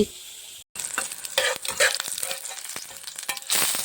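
Chillies and panch phoron spices frying in oil for a jujube pickle, a steady close sizzle with crackling spits and stirring scrapes, briefly cut off near the start before resuming.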